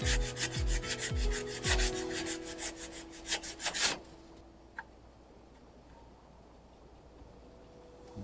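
Someone hand-sands a wrecked Fiero's car body with 80 grit sandpaper in quick, rhythmic rasping strokes for about four seconds, then the sanding stops and only faint background noise remains with a single small tap.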